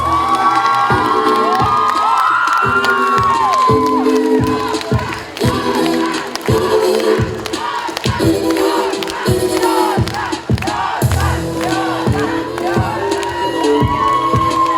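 Loud crowd cheering and applause at the Mister BGPU 2023 university pageant award ceremony, with shouts and whoops over music throughout.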